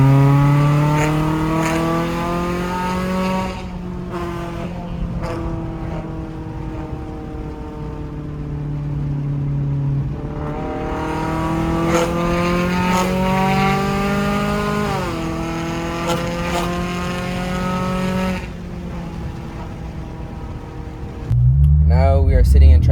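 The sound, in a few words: Infiniti G37 IPL car exhaust, loud and raspy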